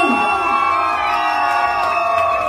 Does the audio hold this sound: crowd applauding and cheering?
yes